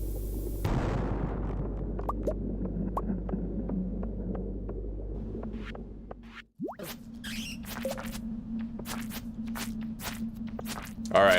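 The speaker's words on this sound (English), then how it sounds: "Let's put a bomb down." Bomb in the Stardew Valley mines going off: a heavy low booming blast at the start rolls into a long rumble, followed by quieter ticks and thuds and a steady low hum.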